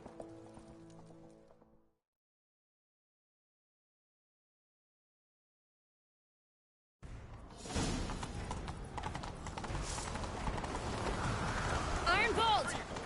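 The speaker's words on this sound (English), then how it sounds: "Grab a horse, we'll chase him down." Rhythmic hoofbeats of a galloping horse in The Witcher 3: Wild Hunt pound steadily after a silent gap, with game music and effects swelling underneath.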